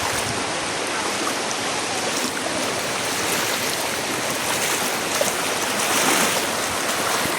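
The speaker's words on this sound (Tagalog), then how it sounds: "Yan, lakas po ng current, oh. Kita nyo po yan, current na yan." Strong floodwater current rushes through a gate after an overnight downpour, a steady, loud broadband roar of churning water, continuous and close, with no pauses.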